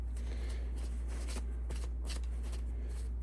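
A rimfire rifle part is slipped into a plastic bag, producing soft crinkling and rustling bursts of plastic, close and quiet over a low steady hum.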